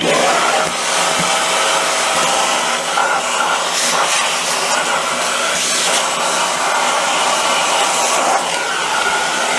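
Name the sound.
Vevor wet and dry vacuum cleaner running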